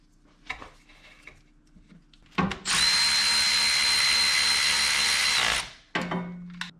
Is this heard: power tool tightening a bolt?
yes